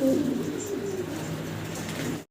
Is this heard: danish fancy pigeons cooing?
yes